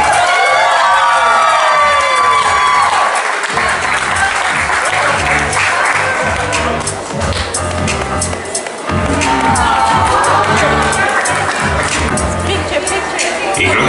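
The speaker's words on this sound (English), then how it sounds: "Let's give it a round of applause for Rex." Guests at a quinceañera party applaud and cheer loudly for a man named Rex, dense clapping mixed with whoops and children's shouts, with music and voices running underneath the whole time.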